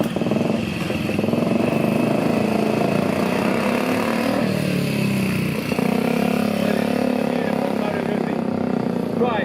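A 500cc motorcycle engine runs at a concours event, a loud steady close rumble that continues throughout, with a voice speaking over it.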